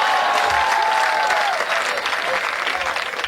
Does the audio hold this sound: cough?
no